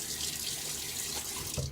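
Tap water runs steadily into a sink as a man wets his face before a wet shave, a continuous close splashing flow with a slight change in the stream near the end.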